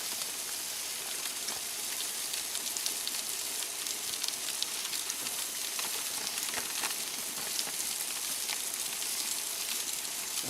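Food sizzles on an off-grid camp grill with a continuous close crackle and hiss, steady and dense from start to finish.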